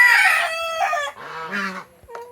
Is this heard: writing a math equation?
no